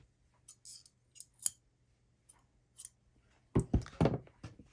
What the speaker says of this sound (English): I'm going to cut the yarn